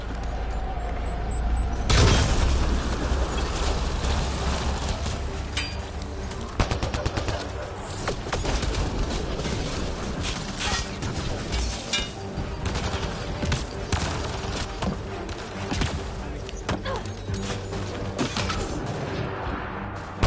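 Rifle gunfire in the Mass Effect Andromeda video game, dense rapid assault-rifle bursts and booming shots layered over continuous loud combat noise, with talk mixed in.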